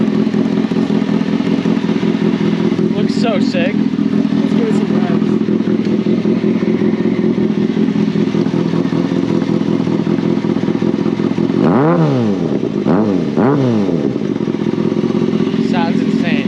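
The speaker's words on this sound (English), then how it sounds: "Let's give it some revs." A Kawasaki Ninja ZX6R with a custom exhaust idles loudly up close, then about midway gets three quick throttle blips that rise and fall sharply before settling back to a rumbling idle.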